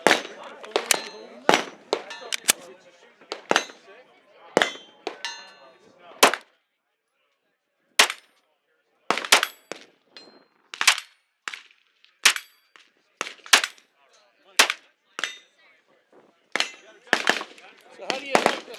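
Handgun shots from a Springfield XD 2.0 pistol fired by a shooter wearing First Tactical gloves at a SHOT Show range, sharp loud reports in irregular bursts with short pauses, some close together and some spaced apart.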